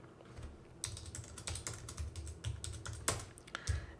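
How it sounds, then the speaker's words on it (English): Fingers tap out a library card number and PIN on a computer keyboard in a quick, close run of crisp clicking keystrokes with no pauses longer than a moment. "And then I type in my library card number and my PIN and click login"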